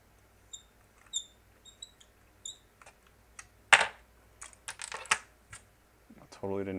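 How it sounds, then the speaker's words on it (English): A small piece of shipping packaging from a GoPro Hero 4 Black Edition box being handled up close, giving sparse light clicks, taps and a few crinkly rustles, quiet and intermittent, with a slightly louder scrape near the end. "just a little piece of packaging here to keep it upright during shipping"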